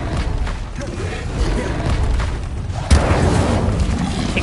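In Hogwarts Legacy, an Incendio fire spell erupts as a loud, sustained roaring blast of rumbling noise, with a sharper burst near the end.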